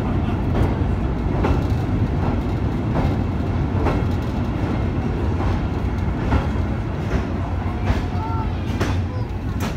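An old steam train rumbles steadily along the Anduze to Saint-Jean-du-Gard line in the Cévennes, France, with rhythmic clatter, a constant loud roar throughout with occasional sharper clanks.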